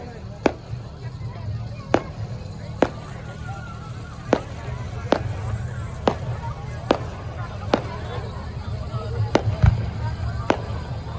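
Diwali fireworks go off outdoors at night, with about a dozen sharp, fairly distant cracks and bangs spaced irregularly over a low background hum, while people talk nearby.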